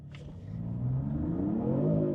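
A Dodge rear-wheel-drive muscle car launches hard, its V8 rising in a swelling rev as the spinning tires let the engine climb, loud and close with no speech.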